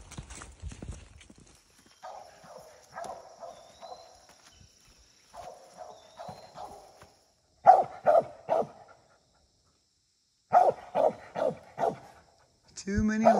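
A squirrel dog barks at a treed squirrel in the woods, with repeated bursts of barking in quick runs separated by short pauses, fairly close and clear, mostly with no talk over it.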